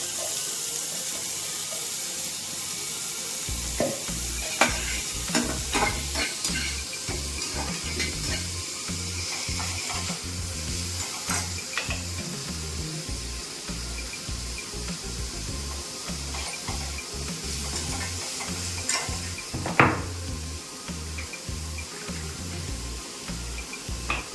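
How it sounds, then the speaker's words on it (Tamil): Beetroot sautéing in oil in a pan, a steady close sizzle broken by irregular spatula scrapes and stirring knocks throughout. "பீட்ரூட் வந்து நல்லா இந்த மாதிரி நல்லா கொஞ்சம் வதக்கிடுங்க எண்ணெயில்"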